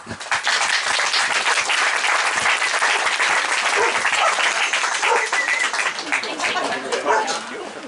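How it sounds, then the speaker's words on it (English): Loud, sustained audience applause for the speakers at a talk fills the space, dense clapping holding steady for several seconds with scattered cheers and voices mixed in. "Please put your hands together for Heidi Ware Carlisle and Jessica Pollock."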